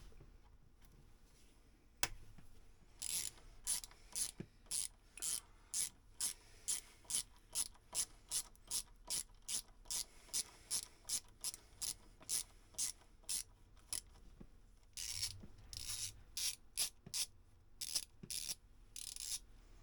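Ratchet wrench backing bolts out of a Volvo Penta 2002 marine engine's water pump, quick regular clicking bursts repeated many times in a row, close and crisp, with a faster flurry near the end and no speech.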